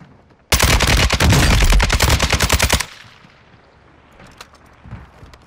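Rapid automatic gunfire from a battle royale video game, a loud dense burst of about two seconds with fast regular shots, then a quieter tail of distant shots and ambience.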